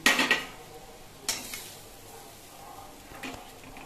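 A pan holding fried banana stem is handled as it comes off a gas stove, giving a few short metallic clanks and scrapes, the loudest at the start, followed by quieter clatter.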